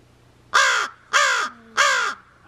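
Crows in an aviary give three loud, harsh caws at a steady pace, each a drawn-out rasping call close to the listener, with a faint second bird calling softly beneath and no talk.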